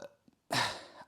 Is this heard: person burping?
yes